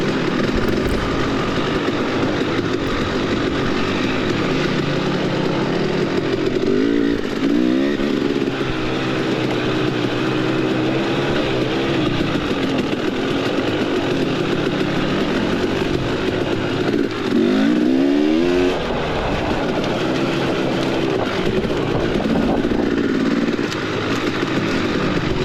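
A 300 dirt bike engine drones loudly and continuously during a motocross race, its pitch rising and falling with revving and hesitating as if starving for fuel, recorded close on the bike.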